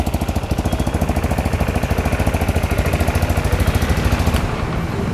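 A used Royal Enfield-style Imperial motorcycle's engine runs steadily at close range, a loud, rapid even thump that carries on unbroken before cutting off sharply near the end.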